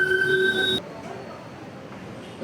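Long-distance train at Pasar Senen station, Jakarta: a loud, close rumble with high squealing wheel tones cuts off abruptly, leaving a quieter ambient hum of the platform.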